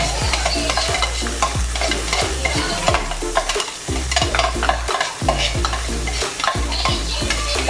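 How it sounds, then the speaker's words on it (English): Onions frying in a hot pan, a loud, steady sizzle with repeated scraping strokes of a utensil stirring them through the oil, alone with no talking. "fry our onion."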